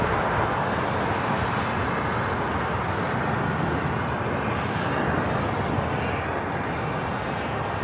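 An airliner taking off from runway 25 right at LAX, a steady broad engine roar that holds at an even level for several seconds, heard from a distance with no voices.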